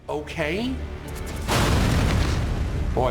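A sudden explosion erupts near a man by a ventilation duct, a loud booming burst of roaring noise that follows a brief voice and continues as a sustained rumble.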